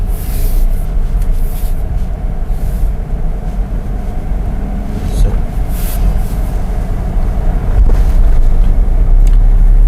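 Inside a 2015 Toyota Vios 1.5 G on the move, a steady low engine and road rumble fills the cabin, swelling slightly louder toward the end.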